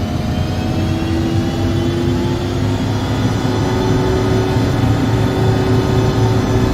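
Embraer ERJ 145XR turbofans spooling to takeoff power in X-Plane 11, a loud, steady roar with rising whining tones sliding upward over a low rumble, continuous and close with no talking.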